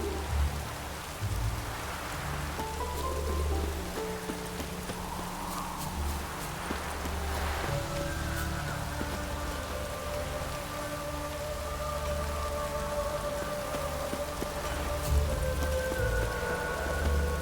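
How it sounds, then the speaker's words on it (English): Steady rain falling in The Witcher 3, a continuous soft hiss and patter with low ambient rumble and faint tonal game sounds over it, no speech. "The sky weeps. Looks like rain."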